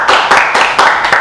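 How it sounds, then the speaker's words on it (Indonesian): Close, loud hand clapping at a ceremony honoring the best film in Central Java, about five crisp claps at a steady beat, heard alone. "Mas Rasid, tepuk tangan Mas Rasid"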